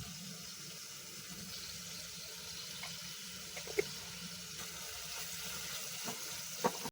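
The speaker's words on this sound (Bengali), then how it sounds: "এখন আমি চিংড়ি মাছটা মশলার সাথে ভালোভাবে কষিয়ে নিব" Shrimp being sautéed with spices in a pan for a shrimp curry with okra and potato: a steady, even sizzle and hiss carries throughout, broken by a few sharp utensil clinks near the end.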